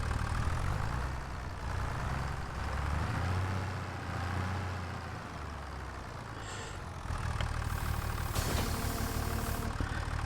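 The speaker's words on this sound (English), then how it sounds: "let me see if this tractor will pull this without the mower going" A small tractor engine runs steadily at a low idle-like drone, close and continuous outdoors on a farm, with slight shifts in load partway through.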